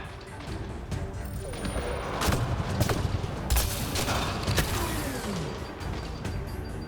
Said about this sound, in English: This is the Soned grenade launcher modded.